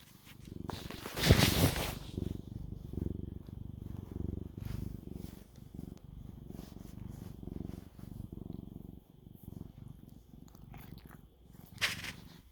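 A cat purring close up, a continuous low rumbling with a few brief rustles and movement noises.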